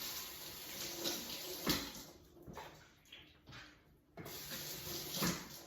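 Tap water runs steadily into a pot holding freshly cleaned chicken pieces for a rinse, a broad hissing splash with brief dips in flow midway, close and fairly quiet, no talking.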